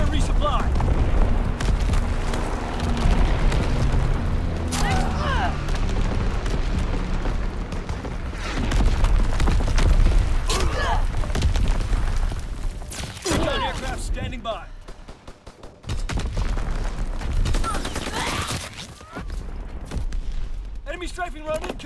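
Explosions and gunfire fill a Call of Duty WWII video game battle: sustained loud rumbling booms and crackling shots with sharp blasts scattered throughout, while voices talk over the din.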